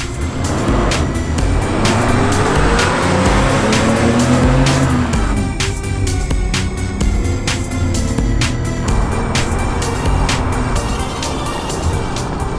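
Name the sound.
Porsche 944 Turbo accelerating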